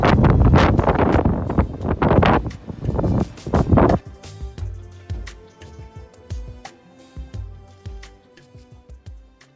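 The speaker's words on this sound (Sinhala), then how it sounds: "හුළඟ තමා හුළඟ." Strong wind buffets the microphone on an off-season Sripada hiking trail, heavy roaring gusts for the first few seconds that then ease into lighter, intermittent rumbles and softer rustling.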